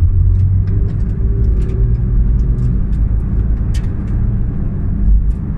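A 2016 Porsche 911 GT3 RS with a PDK gearbox driving in Acton, Massachusetts, heard from the cabin as a loud, steady engine and road rumble with small clicks and knocks, and no one speaking.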